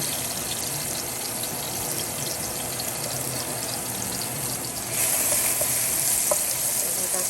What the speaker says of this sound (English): Let that saute for a little bit.